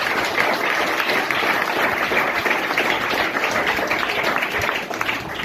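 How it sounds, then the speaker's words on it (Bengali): An audience at a school event for orphans claps together in steady, dense applause that carries evenly throughout, with a slight dip near the end. "ওদের জন্য একবার তোমরা হাততালি দাও।"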